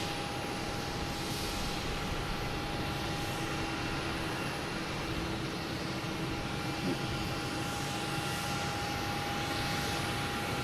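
An airplane landing at Boston Logan Airport makes a constant, dense jet roar with a steady whine running through it. The sound holds at an even level for the whole stretch and is heard alone, without voices.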